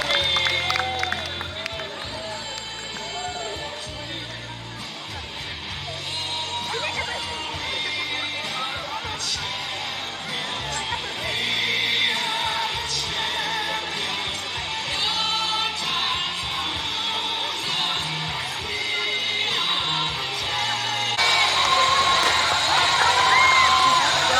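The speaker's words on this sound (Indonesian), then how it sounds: "Berikan tepuk tangan yang meriah dong kepada teman-teman." Crowd at a neighbourhood Indonesian Independence Day evening celebration, with lively cheering, clapping and shouting that builds louder toward the end while voices mix in throughout.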